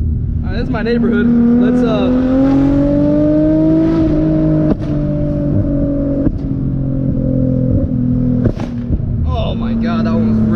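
A Nissan G35 with a Tomei exhaust driven through a neighborhood, engine droning loudly up and down through gears with several sharp exhaust pops and bangs, heard from inside the car.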